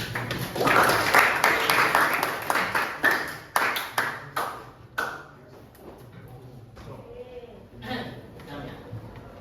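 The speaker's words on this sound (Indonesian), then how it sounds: "terima kasih nak, tepuk tangan" Students in a classroom clapping their hands, a loud rhythmic patter of claps that tapers off into scattered individual claps and sharp taps, with a few voices heard faintly afterward.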